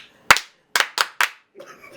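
Four sharp hand claps ring out close and distinct, one then a brief pause and three in quick succession, with faint room noise and a murmur after.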